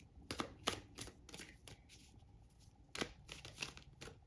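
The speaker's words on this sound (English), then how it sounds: "Let's pull some tarot cards." Tarot cards from a Pulp Tarot deck riffle and slap through repeated quick shuffles, crisp papery bursts in uneven clusters with short pauses between, close and fairly quiet, no talking.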